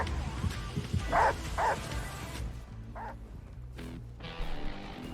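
A dog in a multiplayer horror video game gives a few quick yipping barks, fairly faint beneath game noise and clatter, with a short bark again later.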